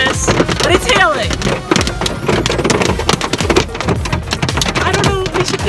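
Heavy hail pelting down in a National Forest in a dense, clattering barrage, loud and close, with faint voices and a low rumble underneath.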